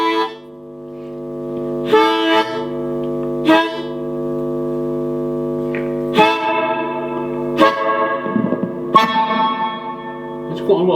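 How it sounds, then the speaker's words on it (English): Harmonica played through a Bugera V5 Infinium valve amp with heavy reverb, sustained chords in repeated phrases, each swelling and trailing off into a long echoing tail. "There's quite a lot of reverb there"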